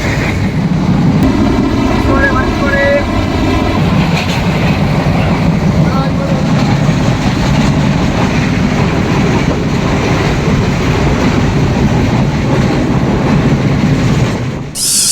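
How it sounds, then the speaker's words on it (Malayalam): A Sri Lankan passenger train runs from Galle toward Colombo, its loud constant roar and rumble heard from inside the carriage, with rhythmic wheel clatter and a brief whistle-like tone early on, while a voice talks over it. "ശ്രീലങ്കയിലെ ട്രെയിൻ യാത്ര എന്ന് പറഞ്ഞിട്ടുണ്ടെങ്കിൽ നമ്മളെ നാട്ടിലെ യാത്ര പോലെയല്ല."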